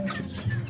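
Young chickens about two months old, banded farm birds, clucking in a short burst of soft, close, overlapping calls with a low background hum.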